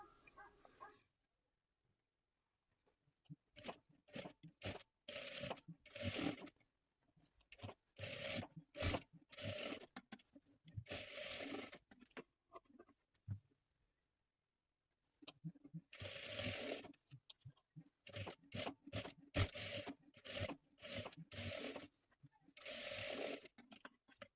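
A sewing machine runs in bursts of rapid mechanical stitching with pauses between, sewing a shoulder seam with double stitching on a one-piece jacket; close and clear, no voices.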